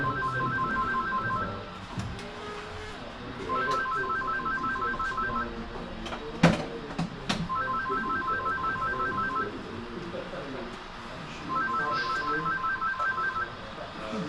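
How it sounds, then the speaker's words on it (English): A telephone rings in a model railroad club room during an operating session. Four repeated double-burst rings come at regular intervals, over room noise and faint background chatter, with a couple of sharp knocks in between. "I think it's the phone."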